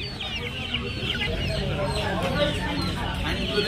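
Chickens and small chicks at a busy poultry market cluck and cheep continuously and loudly, a dense overlapping flock chorus with a voice speaking over it.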